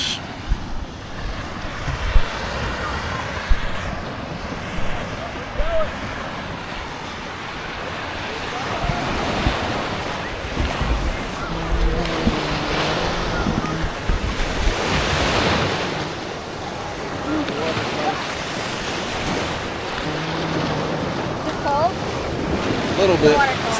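Surf rolls onto the beach at Saugatuck State Park in a continuous wash, with wind noise and faint voices of people walking along the shore in the background.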